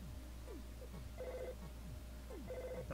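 A telephone rings inside a video game, two bursts of electronic bell tone repeating at an even rhythm over a low steady background hum and music.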